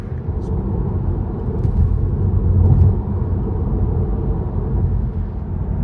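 Car cruising along Highway 101 on the Oregon coast, a steady loud low rumble of road and engine noise throughout, swelling slightly midway, with no talk.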